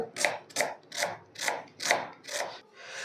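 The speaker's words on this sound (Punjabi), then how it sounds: "ਸਭ ਤੋਂ ਪਹਿਲਾਂ ਕੱਟਾਂਗੇ ਪਿਆਜ਼ ਠੀਕ ਹੈ ਜੀ ਐਨ ਬਿਲਕੁਲ ਬਰੀਕ ਬਰੀਕ ਕੱਟਣੇ" Onions are chopped very finely with a knife on a board for Punjabi-style mixed vegetable pakoras, giving seven evenly spaced, close, crisp chops in a steady rhythm with no talking.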